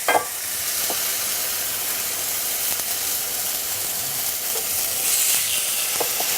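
Chicken sizzles loudly in a hot pan, a steady crackling hiss with a few sharper pops and spits scattered throughout.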